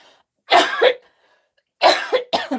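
A person coughs close up in two separate bursts, the second run of short hacking coughs ending in throat clearing, with quiet pauses between.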